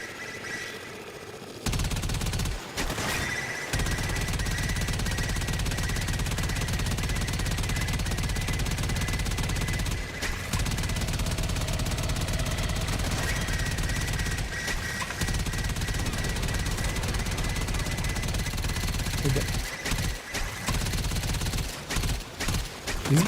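Sustained automatic gunfire in Warframe, a dense continuous rattle of rapid shots carrying on for most of the stretch, broken by a few short pauses and clusters of separate bursts near the end.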